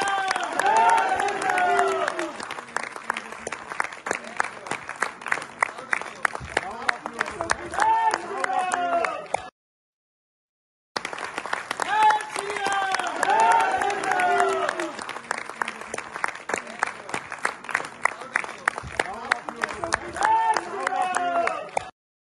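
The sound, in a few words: audience applause in cinema hall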